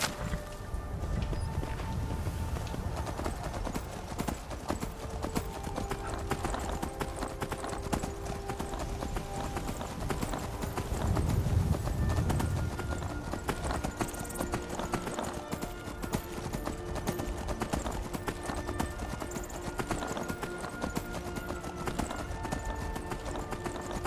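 Horse hooves clip-clop steadily in the video game Skyrim, a continuous rhythmic trot under ambient game sound and music, with occasional speech over it.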